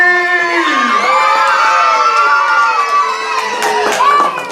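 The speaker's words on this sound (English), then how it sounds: "make some noise. Let me hear you scream!" A crowd of young voices screams and cheers loudly and continuously at a comedy and magic show, rising into shrill whoops near the end.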